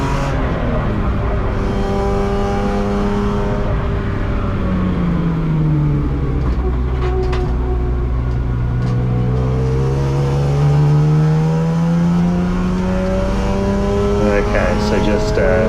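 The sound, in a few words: BMW race car driving a qualifying lap at Hampton Downs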